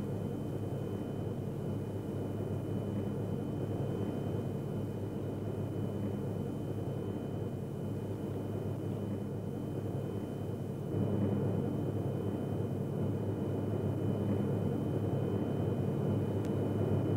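Steady broadband cabin roar of an airliner approaching Copenhagen for landing, a constant low rumble with a slight rise in level partway through, no voices.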